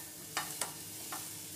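Masala is sautéed and stirred in a pan for paneer masala, giving a low, steady sizzle. Three quick spoon scrapes cut through it.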